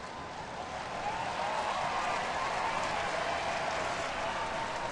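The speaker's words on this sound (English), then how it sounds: "Fans are cheering." A baseball stadium crowd at a Angels–Royals game cheers and applauds in a sustained, even wash of clapping and voices, steady and moderately distant for the whole stretch.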